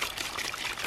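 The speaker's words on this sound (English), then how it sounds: "Usually you boys are over there waiting for me to pour the water." Water being poured out for farm animals in the morning, a steady close splashing pour that runs evenly for under a second with no voices.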